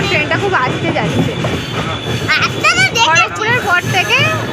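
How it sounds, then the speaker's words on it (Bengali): A passenger train rolls slowly along the rails near Santragachi, with steady rumble and repeated high wheel squeals rising over it, while people talk throughout. "এখন ট্রেনটা খুব আস্তে যাচ্ছে"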